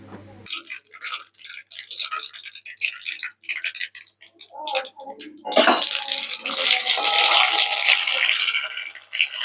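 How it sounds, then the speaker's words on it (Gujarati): Mustard seeds and sesame seeds crackling in hot oil while tempering for patra, at first sparse sharp pops, then a sudden loud dense spattering crackle, close and continuous. "અંદર રાઈ એડ કરીશું તો સરસ રીતે ફૂટી જાય."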